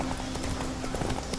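Roach the horse galloping in The Witcher 3, with quick rhythmic hoofbeats pounding steadily and close for the whole moment.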